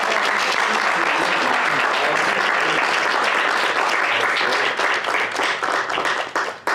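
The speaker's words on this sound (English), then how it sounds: "Applause." Enthusiastic applause from the students of a mariachi vocal interpretation class for a singer, dense steady clapping filling the room and thinning out toward the end.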